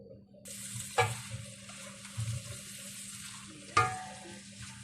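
Vegetables stirred in a frying pan, with a spoon scraping and clattering against the pan twice in strong bursts over a steady, soft sizzle and low background hum.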